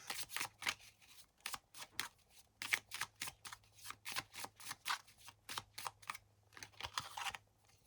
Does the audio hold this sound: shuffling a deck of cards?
yes